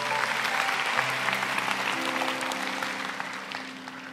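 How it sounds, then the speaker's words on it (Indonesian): Applause from a church congregation during a sermon, a dense, steady patter of many hands filling the room for about four seconds with faint sustained organ or keyboard tones underneath, slowly easing off toward the end. "Kasih tepuk tangan untuk Tuhan"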